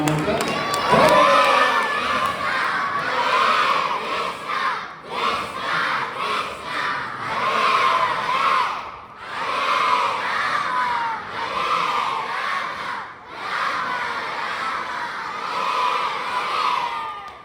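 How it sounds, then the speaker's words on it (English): A crowd of children at a Balotsav gathering chants the Hare Krishna mantra loudly in unison, in rhythmic surging phrases with brief pauses, filling a large space for the whole stretch. "let us all express our gratitude for all the teachers here by loudly chanting Hare Krishna Mantra"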